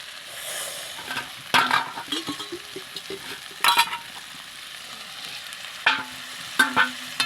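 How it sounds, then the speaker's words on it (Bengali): Spiced jackfruit curry sautés in a pan with steady sizzling, broken by repeated scraping stirs of a spoon against the metal. The sounds are close and loud, with no one speaking. "দেখুন কষা চলছে, অনেকক্ষণ ধরেই কষা হচ্ছে।"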